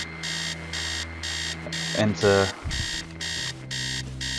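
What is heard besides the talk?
alarm clock ringing in the video game Stories Untold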